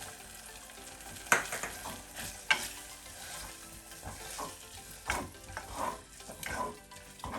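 Spoon stirring a pepper and cheese filling in a bowl, a string of close scraping and squelching strokes with a couple of sharp clinks, fairly quiet and without talk.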